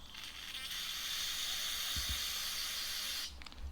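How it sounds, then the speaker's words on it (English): Brake parts cleaner sprays from an aerosol can onto a spark plug from a Craftsman 32cc weed eater, a close, steady hiss lasting about three seconds before cutting off. "Use a little brake part cleaner."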